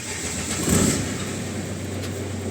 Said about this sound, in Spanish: Tenemos motor encendido, sí señor